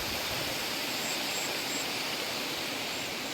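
Steady broadband rushing of a waterfall in Kharsia, Chhattisgarh, heard as a constant even roar at moderate distance with no clear voices.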